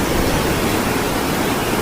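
A river rushes steadily nearby in hilly Nepal, a dense broadband roar of flowing water with no breaks or voices.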